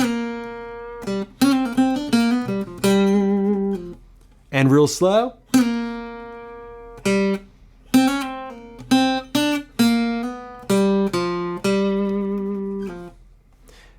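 A bluesy guitar lick over the four chord of "Going Down the Road Feeling Bad", with slides and bends, short phrases separated by pauses, and a brief spoken remark in the middle.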